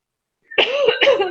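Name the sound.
person coughing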